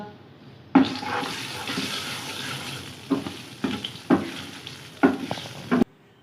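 Hot oil sizzles and spits as red chillies are tossed in for a dal mash tempering, with several sharp bursts of crackling and stirring clatter over a steady frying hiss.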